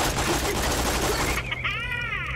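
Rapid automatic gunfire in the video game Borderlands: The Pre-Sequel, a dense, loud burst of shots for over a second that gives way to a rising, wavering electronic whine.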